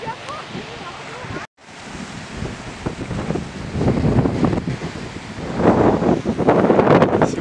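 Strong gusty wind buffets the microphone on the pier at Warrnambool, a loud continuous roar with a brief dropout, swelling stronger later, with surf and waves mixed underneath and no clear talk.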